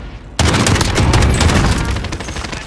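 Sudden heavy blast erupting after a short quiet lead-in, then a loud, rumbling barrage of rapid explosions from a precision airstrike in the video game Warzone, dense and sustained before easing slightly.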